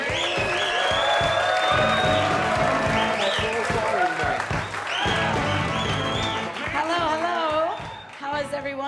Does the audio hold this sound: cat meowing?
no